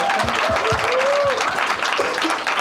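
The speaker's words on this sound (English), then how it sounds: "can we get an extra round of applause" Dense applause from a gathered audience at a closing session on arts and peace, loud and continuous, with speaking voices faintly audible through the clapping.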